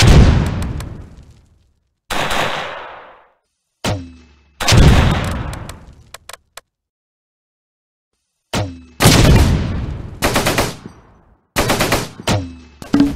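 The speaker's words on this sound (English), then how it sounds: "Taking fire!" Bursts of video game gunfire during a firefight, loud and close, coming in several clustered volleys separated by short silences, with single sharp shots scattered between them.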